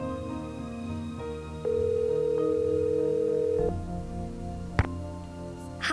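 Phone call placed in a Nancy Drew video game, with a steady ringback tone lasting about two seconds over low background music, then a click and a faint line hum.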